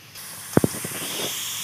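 Cumin seeds roast in hot oil for rajma, giving a steady soft hiss with a couple of brief sharp crackles near the start.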